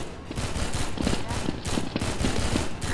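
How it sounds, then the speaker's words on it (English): Gunfire cracks out in a rapid, uneven series, like a burst of shots, over steady loud crowd or party noise with voices mixed in. "They're shooting at us."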